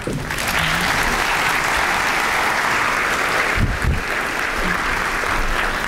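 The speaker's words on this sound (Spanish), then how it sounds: "Fuerte aplauso, por favor." Audience applause at a scientific lecture on cancer genomics, a dense, steady round of clapping that holds evenly for several seconds.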